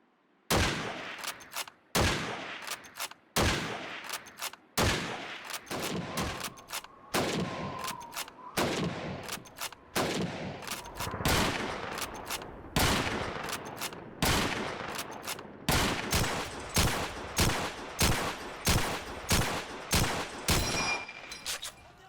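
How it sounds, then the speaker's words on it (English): Rapid volleys of rifle shots from the Call of Duty 2 video game, dozens of sharp cracks in irregular bursts across a long battle stretch, loud and close with no talking. "just listen to how the rifles sound"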